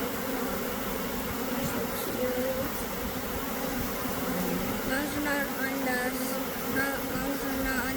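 A honeybee swarm buzzes in a steady, dense drone during a net capture outdoors, with occasional individual bees passing close; people talk over the continuous hum.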